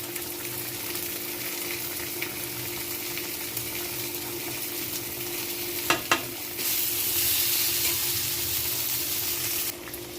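Vegetarian green jackfruit curry simmers in a pot with a continuous bubbling sizzle, briefly clattered around the middle before the bubbling swells louder.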